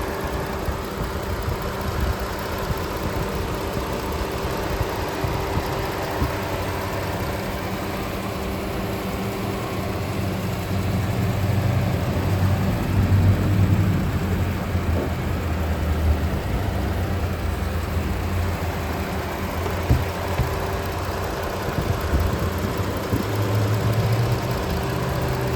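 3.6-liter V6 of a 2017 Chrysler Pacifica Limited idling under the hood, a steady low hum with a faint constant tone, swelling slightly midway, close and without talking.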